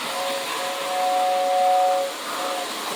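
Lionel 2046 toy steam locomotive pulling a 1953 postwar 1509WS freight set sounds a steady two-tone whistle for about two seconds over a continuous motor hiss, close and clear.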